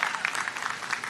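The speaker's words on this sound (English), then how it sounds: "A round of applause for Matt again." Brief, fairly faint applause from a commencement audience at Guttman Community College, clapping for Matt in a quick scattered patter.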